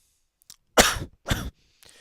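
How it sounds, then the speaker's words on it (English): A person with a cough and cold gives two harsh, close coughs in quick succession, with a faint throat sound before and after. "I do have a bit of a cough cold"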